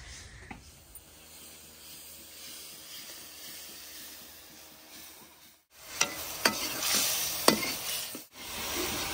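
Onion and garlic fry in a pan with a steady close sizzle; after a brief pause the frying turns louder and brighter, with a few sharp spatters and stirring scrapes.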